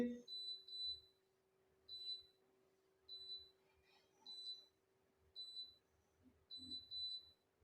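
Daikin air conditioner beeping for an error code: short, high electronic beeps come in paired bursts at a steady interval, with a faint steady hum behind them and no speech over them.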